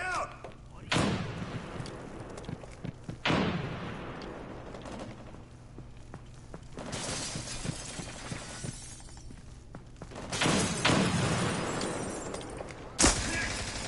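Grenade explosion and gunfire in a PS4 shooter, several sharp loud blasts and cracks spaced a few seconds apart over distant rumbling, with a player's voice talking quietly in between.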